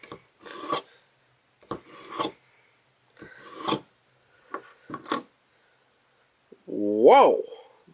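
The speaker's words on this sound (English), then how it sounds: "They actually sharpen it in like 3 strokes on the coarse side and another 3 strokes on the fine side." A Tonto-style blade pulled through the coarse and then the fine slot of a Sharp N Easy 2-step knife sharpener: roughly six short, close rasping strokes, followed by a brief exclaimed voice at the end.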